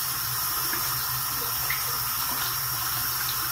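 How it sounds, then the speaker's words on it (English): Hands being rinsed under a running tap, a steady hiss of water into a sink, close and continuous with no talk. "But first I'm gonna rinse off my hands."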